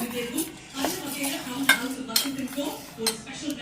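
Eggless cake batter being stirred in a bowl, with soft, steady scraping and occasional light clinks of a utensil against the bowl, close and continuous with no talking.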